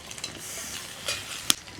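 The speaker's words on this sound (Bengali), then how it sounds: "পেঁয়াজের মধ্যে দিয়ে দেবো আদা রসুন বাটা দিয়ে দেবো টমেটো কুচি" Fried onions with ginger-garlic paste and chopped tomato frying in a pan, a brief close sizzle with a light stir and one sharp metallic clink near the end, no voices.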